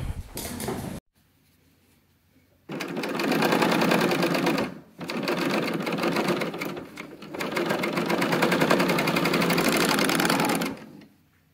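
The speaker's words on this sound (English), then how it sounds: "I'm just going to serge right across the bottom of this" A serger overlock machine stitches across the bottom hem of a sewn top, a fast, loud mechanical chatter in three long bursts separated by short pauses.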